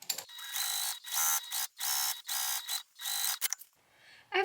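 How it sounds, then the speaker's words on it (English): A sewing machine runs top stitching across a fabric bag pocket in short bursts, a quiet close-up whirring that starts and stops repeatedly with brief pauses between runs. "just to sew a row of top stitching across the top"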